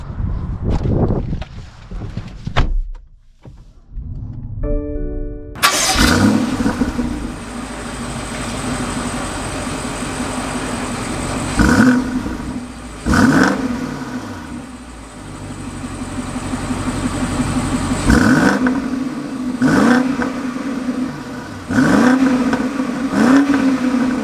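BMW X5 M50i, 2021, heard from the cabin: a brief start-up chime, then the engine fires and runs, with several surging revs and a steady hum as the SUV moves off.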